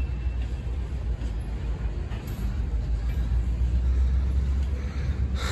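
A long CN freight train hauling green grain cars rolls past during switching in Pembine, a steady, broad low rumble with faint rattling that holds at an even loudness throughout.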